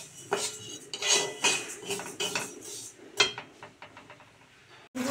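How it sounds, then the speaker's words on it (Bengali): Mung dal dry-roasts in a pan, heard as bursts of metallic scraping and clinking from a spatula stirring it, with short quiet gaps between strokes. "পুরো লাল করে মুগ ডাল ভেজে নিচ্ছি"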